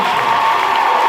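A church congregation cheers and acclaims together, a dense, loud and steady roar of many voices with no break.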